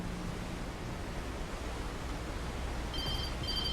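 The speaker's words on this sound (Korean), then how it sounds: "때마침 전화가 왔어" A telephone rings in the psychological thriller game Alan Wake Remastered, sounding as short, repeated electronic trills near the end over steady ambient hiss and low rumble.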